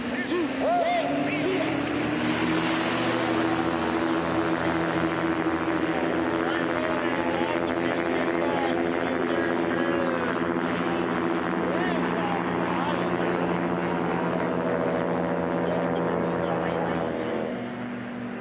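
Light STOL Kit Fox airplanes in a drag race, one powered by a Yamaha Apex snowmobile engine, roar steadily at full throttle for most of the run, their engine drone fading out near the end, with no talk over it.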